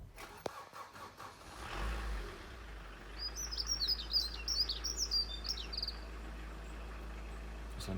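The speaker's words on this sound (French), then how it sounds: "C'est un petit rossignol." A small nightingale sings at an outdoor flea market, a burst of bright chirping notes midway, fairly faint over a low steady engine rumble.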